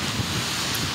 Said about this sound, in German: Es ist windig.